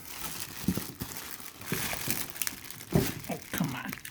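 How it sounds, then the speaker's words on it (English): A plastic bag wrapping a figure being torn open by hand, with close crinkling and crackling, sharp tearing bursts and a few soft thunks. "So let's get the plastic bag open."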